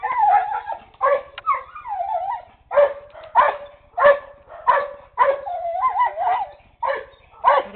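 A dog barks excitedly over and over, loud and close, with yips, whines and howl-like wavering calls between the barks. No one talks.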